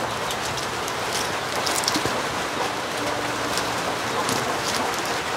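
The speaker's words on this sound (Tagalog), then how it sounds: "At baka lumakas pa ang ulan" Steady rain falling and pattering on surfaces, a constant close hiss that fills the whole stretch with no clear pauses and no voices.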